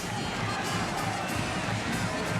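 A large football stadium crowd at Chapel Hill during a college game, a continuous broad roar of many voices that stays loud and steady from start to finish.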